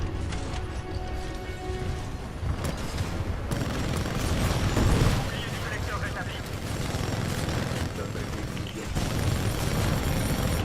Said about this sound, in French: Oh là, ces explosions là, faut vraiment faire gaffe.